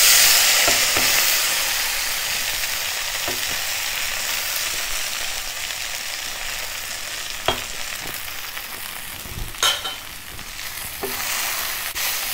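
Rice flakes with curry leaves and asafoetida are stirred in a hot pan, a steady dry sizzle with a few sharp scrapes and clinks of the spoon, no voices.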